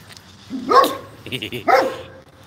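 Several dogs bark close by in two sharp bursts with yips between them, over low background noise and no speech.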